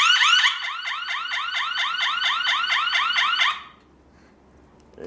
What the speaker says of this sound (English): the beep is very loud in the max position, very loud